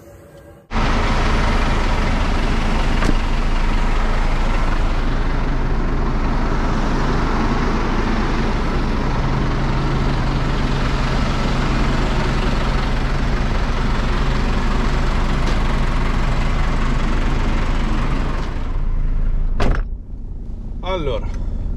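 A truck engine idles steadily while warming up, a low constant rumble starting abruptly and holding for nearly twenty seconds before a brief clunk and a drop near the end; someone speaks over it.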